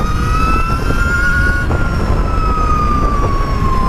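An Energica EGO electric motorcycle on the move gives off a steady, futuristic high-pitched motor whine that glides gently up and down in pitch over a close, constant rush of wind and road noise.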